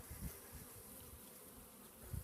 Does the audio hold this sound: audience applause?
no